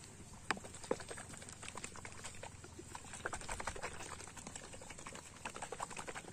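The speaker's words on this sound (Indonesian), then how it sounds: "kita tutup lagi kita kocok seperti ini" A closed container of liquid fertilizer is shaken by hand, producing a quiet, rapid, uneven sloshing and rattling patter that keeps going throughout at low volume.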